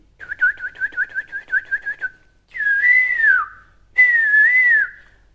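A whistle artist imitates bird calls at a stage event, first a quick run of about ten rhythmic trilled chirps, then two long sliding warbling whistles, loud and close with no talking.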